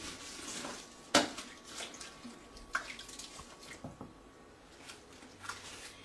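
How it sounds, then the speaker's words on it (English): Shredded food pieces drop into a sink full of water, giving soft splashes, squishes and drips, with one sharp knock against the sink; close and fairly quiet. "we're placing it in the sink, in our sink full of water to soak for just a few minutes"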